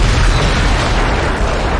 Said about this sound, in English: blew them all up, but since the explosions took me with them